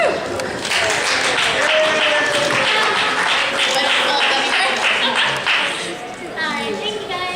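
Audience applause at the Kraken Con 2014 costume contest, a dense, steady burst of clapping from a crowd that holds for about six seconds and then thins out, with voices mixed in.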